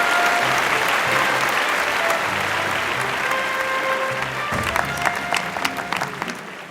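An awards-show crowd breaks into loud, sustained applause for the best actor of the year, Ranveer Singh. The clapping stays dense and continuous, and a few scattered voices and whoops rise through it toward the end.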